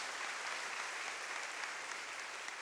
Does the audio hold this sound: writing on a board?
no